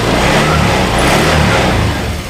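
A Honda Vario 125 automatic scooter's engine revs loudly and continuously as the throttle is twisted, a close, sustained mid-pitched drone that eases off slightly at the end.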